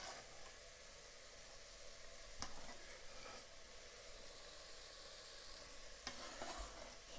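Plant pieces are stirred slowly in a pot of soup, a soft, faint steady wash with a few light scrapes and clicks of the utensil.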